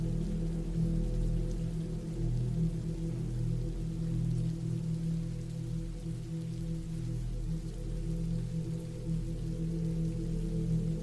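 Steady rain falls continuously on an outdoor surface in the woods, a dense even wash of drops with a low rumbling bed beneath it, heard alone at a constant level throughout.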